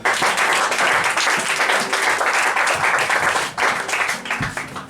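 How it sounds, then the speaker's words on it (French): A church congregation breaks into sustained applause at a worship service, dense steady clapping filling the room for several seconds with a brief dip before resuming. "On acclame pour Jésus, non?"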